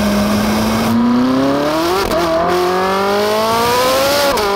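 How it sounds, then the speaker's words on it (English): Ferrari 458 Italia engine and exhaust while driving, a loud, steady drone that rises in pitch as the car pulls through the gears, with a brief dip and shift partway through and continuous engine tone from close inside. "The exhaust note isn't perhaps quite as sonorous as that as you'll find in an old Ferrari either."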